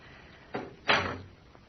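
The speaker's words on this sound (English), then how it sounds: "shut the doors behind us" Old wooden doors are shut in an indoor setting, giving two separate thuds a moment apart, the second louder and longer with a short rattling decay, with no talk over them.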